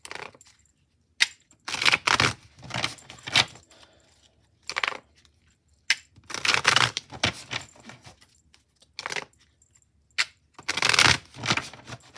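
Oracle cards being shuffled by hand in repeated bursts of crisp riffling and slapping, close and fairly loud, separated by short silent pauses.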